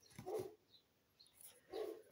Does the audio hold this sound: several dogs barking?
yes